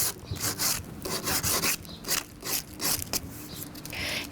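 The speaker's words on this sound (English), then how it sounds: "You're going to take your sandpaper, and you're just going to rub on the edges" Sandpaper scuffs back and forth along the painted edges of an old wooden side table, giving close, rhythmic rasping strokes in short bursts.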